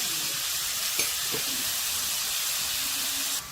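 Three finely chopped onions with a spoon of salt sizzle steadily in a hot pan, a loud continuous frying hiss with a few faint clinks.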